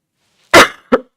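A person with a sore throat coughs once hard and loud, then gives a second shorter cough, with another starting at the very end, close and alone with no talk.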